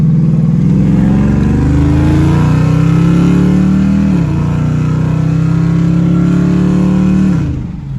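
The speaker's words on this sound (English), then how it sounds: "I gotta let the exhaust rip real quick." A car's exhaust revs hard and loud up close: a sustained high-rpm roar holds for several seconds, dips briefly, climbs again, then drops off abruptly near the end.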